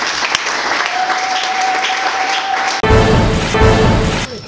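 A church audience bursts into loud, sustained applause and cheering, dense clapping throughout, then a sharp cut leads to more clapping overlapping a voice and music.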